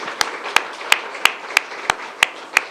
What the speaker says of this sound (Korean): 박수 쳐주시고.